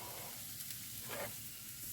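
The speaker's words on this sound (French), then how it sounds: "je vais faire revenir mes oignons, mon ail, mes légumes" Onions frying in a pan, a faint, steady hiss of sizzling that carries on evenly for a couple of seconds.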